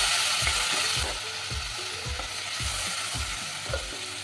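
Spice paste with salt, coriander powder and Kashmiri chilli powder being sautéed in a pan with a splash of water. A spoon scrapes it in a regular rhythm of about two strokes a second over a continuous loud sizzle.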